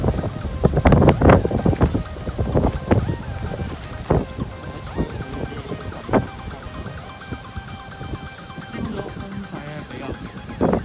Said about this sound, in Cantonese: 見到朝早嘅風力咧就普遍強少少啦